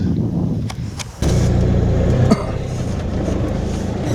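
A car pulls away from a spot by a river, its engine noise loud and steady with a clear rise in drive after about a second, continuing as it travels along.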